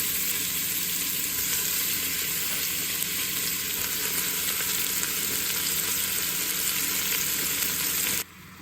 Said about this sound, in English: drop my meat into my hot pressure cooker